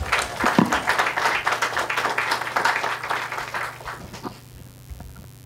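A room full of people claps together in steady applause that fades out after about four seconds, leaving a quiet low hum.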